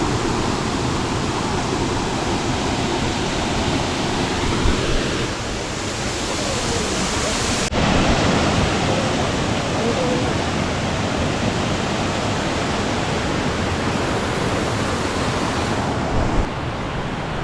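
Danasan Falls rushes with a loud, continuous roar of falling water, a broad unbroken wash of sound that stays steady from start to finish.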